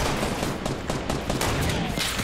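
Dense, continuous gunfire from a battle pass shooter video game, with rapid overlapping shots and bursts that fill the whole stretch at steady loudness.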